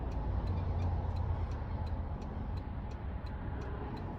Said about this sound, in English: Here comes a big group of cars.